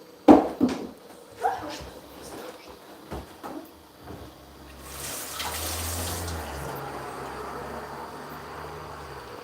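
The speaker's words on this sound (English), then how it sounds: "pouring some water inside the" Water poured into a hollowed pumpkin in a kitchen while making pumpkin leaf pesto, a steady splashing stream lasting a few seconds after some knocks and handling clatter.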